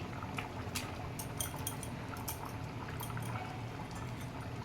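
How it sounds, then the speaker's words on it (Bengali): Water poured into a pan of boiled chickpeas gives a faint, steady splashing and bubbling, with light crackles over a low background. "আমি চানা সিদ্ধর এবার জলটা দিয়ে দিচ্ছি"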